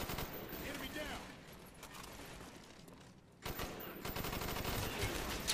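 Gunfire in Call of Duty: Black Ops rattles in bursts of rapid shots with clicking weapon mechanisms, cutting out for a moment before returning loud and dense, with a player's voice talking over parts of it.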